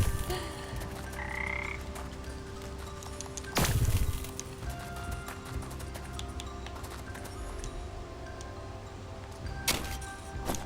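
Frogs croak in the Wytchwood video game with repeated close croaks over a quiet ambient background, broken by a couple of sharp louder thumps.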